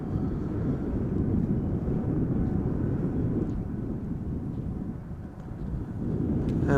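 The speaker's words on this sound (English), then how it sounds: "In a moment we are going to hear the MAX 8." A Boeing 737 MAX 8 airliner passes at Schiphol Airport with a steady, broad low roar of jet engines that holds throughout, dipping briefly near the end before swelling again, mixed with some wind buffeting.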